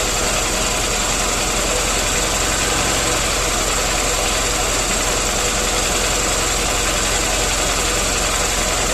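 A Honda Shine motorcycle engine idles steadily during carburetor tuning, a loud, continuous close-up hum with a constant mid-range drone throughout and no clear change in pitch.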